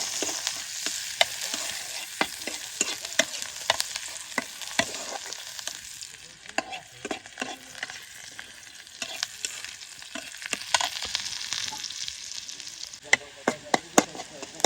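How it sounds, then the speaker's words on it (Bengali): Onions frying in a pan for a Bengali curry base, a continuous soft sizzle with frequent scraping stirs and taps of the spoon against the pan throughout, close and moderately quiet. "পেঁয়াজ দিয়ে দিচ্ছি বাগার আগে।"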